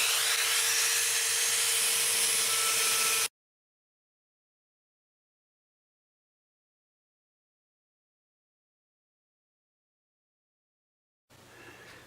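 A cutter bit slices into Gibson guitar wood during a rebuild while an air compressor runs, a loud, steady whirring hiss lasting about three seconds before stopping dead, then resuming briefly after a long silence.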